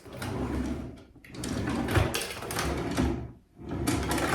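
A deep vanity drawer slides open and shut on its runners, a steady rumbling glide with brief pauses between movements, close by.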